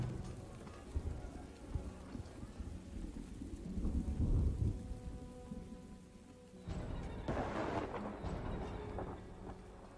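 A thunderstorm in the video game Farthest Frontier: rumbling thunder swells mid-way, then a burst of steady rain on surfaces takes over, under soft game music.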